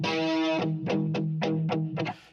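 A distorted, buzzy synth chord sounding a major third interval from a sampler loop hits once and then repeats in five quick rhythmic stabs, close and loud, before cutting off.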